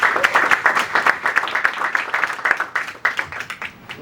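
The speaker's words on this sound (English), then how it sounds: "let's give all of our panelists a round of applause." A panel discussion audience gives a round of applause, dense steady clapping from many hands filling the room, close and loud, with faint voices mixed in.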